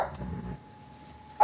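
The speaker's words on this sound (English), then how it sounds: "He barks at the wind." A dog indoors gives a short, loud bark near the end, after low muffled rumbling and over a faint steady tone that runs throughout.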